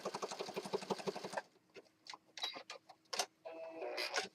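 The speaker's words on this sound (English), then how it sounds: "and then we're going to stitch this side" Hand stitching along the side of a handmade journal with skip stitches and lace: a quick, steady run of rasping pulls, then scattered separate scratches and ticks of thread and paper, close and fairly quiet.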